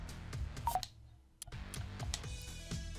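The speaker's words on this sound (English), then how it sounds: "Don't mind me just checking my phone here." Phone menu sounds in the River City Girls video game as a phone is checked: a few quick bright beeps and ticks over steady game music, with no talk.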